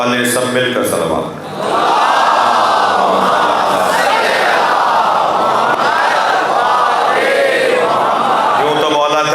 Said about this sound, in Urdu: سب مل کر صلوات۔